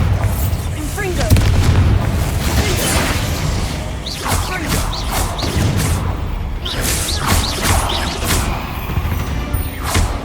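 Bombarda and Incendio spells blast repeatedly during a dark Hogwarts Legacy fight with spiders: rumbling booms and crackling bursts follow one another over ten seconds, mixed with shattering debris and a shouting voice.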